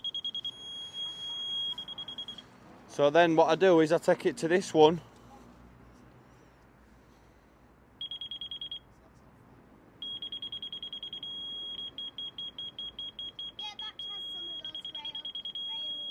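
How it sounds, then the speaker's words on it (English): An electronic level beeps while a sunken patio is being leveled. A steady tone repeats with short and long beeps, then speeds into rapid pulses. Someone talks between the tones, and a burst of louder sound briefly cuts in. "That long beep means it's level to that."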